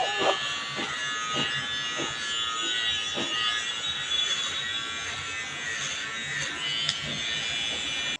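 An electric hair trimmer buzzes steadily and close while cutting hair, a continuous bright whine with faint clicks and rustles of the blades against the hair.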